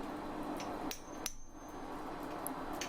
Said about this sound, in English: I want to just put a few little chisel marks in